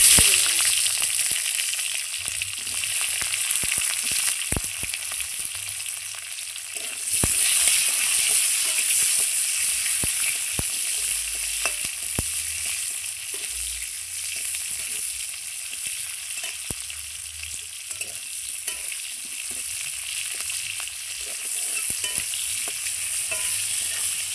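Capsicum pieces fry in hot oil in a home kitchen, a steady loud sizzle running throughout with occasional stirring clinks and scrapes, no voices.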